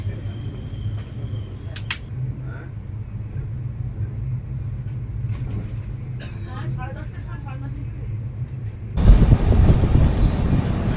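The Howrah–Ranchi Shatabdi Express passes another train at a crossing between Dhanbad and Bokaro: a low steady hum and voices give way to a sudden loud rushing roar in the final seconds.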